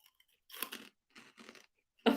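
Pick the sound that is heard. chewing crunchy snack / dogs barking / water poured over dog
chewing crunchy snack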